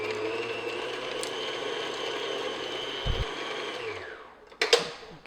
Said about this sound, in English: So what I'm going to do is just beat the butter for maybe a minute